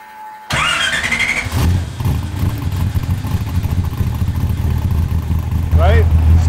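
A car engine starts and revs through a 3-inch Flowmaster Hush Power exhaust, settling into a loud, deep, rumbling idle close by, with a couple of throttle blips and some talk mixed in.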